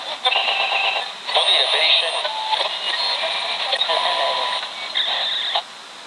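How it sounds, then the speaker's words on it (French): A radio dial sweeps through stations, bursts of static hiss, whistling tones and garbled fragments switching abruptly every second or so, fairly loud and close before it drops away near the end. "Je vais continuer de passer sur les radio."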